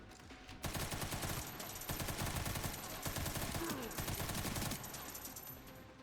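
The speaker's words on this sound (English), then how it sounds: "bring out the machine gun" Sustained machine gun fire in the survival horror game Resident Evil Requiem, rapid continuous bursts filling most of the stretch with dense impacts and clatter, loud and close.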